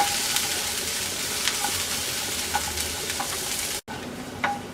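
Onion and garlic fry steadily on medium-low heat in a pan, a continuous even sizzle with occasional small pops and a short stir break near the end.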